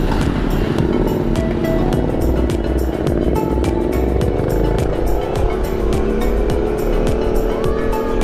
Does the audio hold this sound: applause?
no